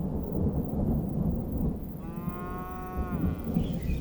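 Single cow mooing outdoors in a grazing area in Botswana, one drawn-out low call over a rumbling, wind-like background.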